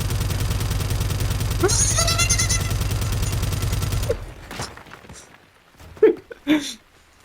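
Zenit rocket weapon in the game Teardown, a dense rapid rattle of fire for about four seconds, then scattered thuds and two louder booms as rockets hit, with a voice briefly heard.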